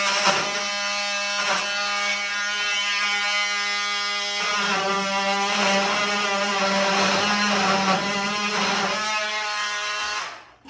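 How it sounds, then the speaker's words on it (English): A jigsaw runs continuously through sheet-metal HVAC duct, a loud steady high-pitched buzzing whine with brief dips as the blade works, ending as the saw stops. "I guess I could use the jigsaw."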